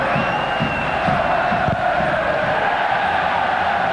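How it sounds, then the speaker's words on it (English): Northern Ireland fans cheering inside a stadium during a 2005 World Cup qualifier against England, a loud, continuous crowd roar with chants and shouts rising above it. "the Northern Ireland fans, every time a tackle's won, the ball goes out of play, something's blocked, they're cheering"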